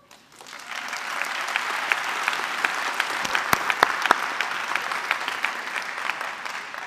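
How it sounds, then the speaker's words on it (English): Steady applause from a university lecture audience, a dense wash of clapping that swells quickly and holds through to the end. "Pause for applause."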